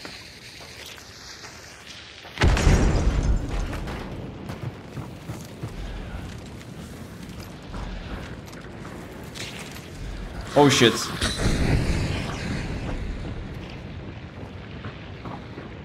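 Two heavy explosions in Hunt: Showdown, a sharp boom early on and another later, each trailing into a rumbling roar, with someone speaking briefly between them.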